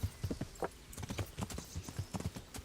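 Horse hooves in Kingdom Come: Deliverance thud in a steady galloping cadence, close and distinct, with the footfalls repeating evenly across the few seconds.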